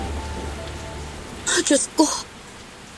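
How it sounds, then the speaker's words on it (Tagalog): Rain falls out of a clear sky after strong wind, a steady soft patter running beneath a man's brief startled exclamation. "pumatak ang ulan"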